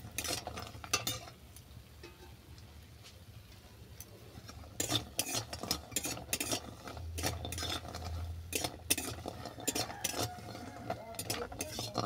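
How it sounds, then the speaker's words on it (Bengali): Lentil dumplings (bori) being stirred while frying in mustard oil, a steady low sizzle under repeated scraping and clinking of a spatula against the pan, close and fairly quiet. "এটাকে নেড়ে ছেড়ে বাদামি করে ভেজে নিচ্ছি।"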